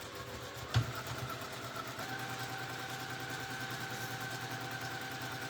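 A sewing machine stitching along a zip in fabric, a steady close mechanical whirring hum with a fast regular rhythm, preceded by a single sharp click near the start, no voices.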